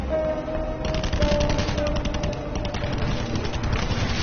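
Sustained automatic gunfire fills a video game shootout, with a dense, rapid rattle of shots continuing steadily throughout.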